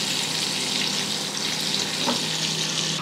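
A teaspoon of sugar and a tablespoon of yellow butter caramelize in a pan for milk French toast, giving a steady, close, unbroken sizzle with no voices.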